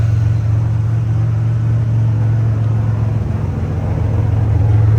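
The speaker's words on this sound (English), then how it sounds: "Got that smooth running V6 up front. Turbocharger just waiting to whine." The turbocharged V6 of a 1989 Pontiac Trans Am pace car idles with a steady, smooth low rumble, loud and close, constant for the whole stretch with no revving.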